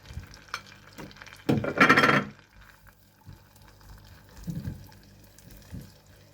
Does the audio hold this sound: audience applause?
no